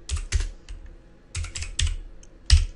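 Keys clack on a computer keyboard as a command is typed into Windows PowerShell, a few quick close taps in small clusters separated by short pauses, ending with a firmer strike.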